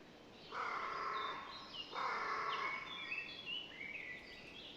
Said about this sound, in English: and we start hearing the birds